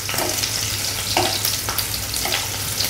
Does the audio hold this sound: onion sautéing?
yes